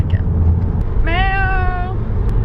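A voice imitates a cat's meow inside a car: one drawn-out, rising-and-falling meow over a steady low engine rumble, close and loud.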